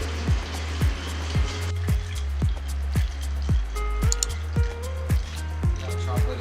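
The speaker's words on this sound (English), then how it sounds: "I am going to place it on my stove and just stir until it all" Chocolate and heavy cream stirred in a pan on the stove, giving a steady rhythm of soft scraping strokes, roughly three per second, over a constant low hum.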